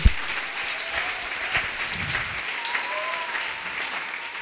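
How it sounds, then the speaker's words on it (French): A church congregation claps loudly together, a steady wash of applause with a few sharper hand slaps, carrying through the hall on its own without voices. "Give a loud clap offering."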